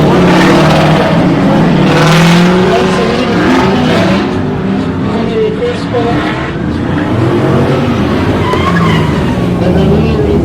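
A race car performing donuts at a motoring festival, its engine roaring steadily with tyres skidding and squealing, loud and close over crowd noise and a person talking.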